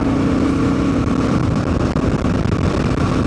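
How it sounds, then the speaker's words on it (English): A 1987 first-generation Kawasaki KLR650 single-cylinder motorcycle thumps along at speed, its loud, close engine note mixed with heavy wind rush and no pauses. "God, this bike runs good."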